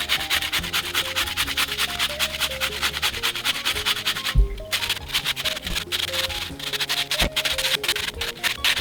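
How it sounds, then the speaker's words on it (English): An onion is grated on a kitchen grater for potato latkes, a continuous rhythmic rasping scrape with one brief pause partway through. "Now I'm going to go ahead and grate the onion."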